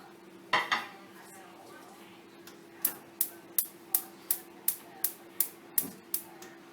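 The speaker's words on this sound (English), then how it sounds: "And then I place it on the stove." A cooking pot set down on a stove, for a Jamaican saltfish and baked beans meal: a couple of soft knocks, then a steady run of about ten sharp metallic clinks over a faint background hum.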